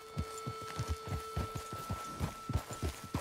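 Horse hooves in Red Dead Redemption II clip-clop in a steady, even rhythm of close, clear hoofbeats, with a faint tonal hum underneath.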